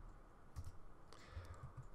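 Keystrokes on a computer keyboard tap out in short irregular clusters at close range, quiet and unaccompanied by any voice, as code is entered for a rocket launch app.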